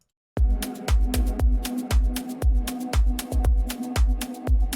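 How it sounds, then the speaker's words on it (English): A house track built in Ableton Live, with a sustained ambient synth pad layered over a steady four-on-the-floor drum loop; the kicks pulse evenly under a continuous warm chord drone, loud and without any voices. "With pads, the track sounds like this."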